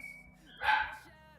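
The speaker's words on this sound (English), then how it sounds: "Sorry about my dogs in the background." A single dog bark, from one of several household dogs, rings out briefly behind a quiet indoor background and fades quickly.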